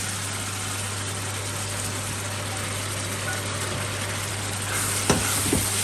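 Egg being stir-fried into a keema chili sauce for stir-fried rice: a steady, close sizzle of frying throughout, with a low hum beneath and a couple of sharp utensil knocks near the end.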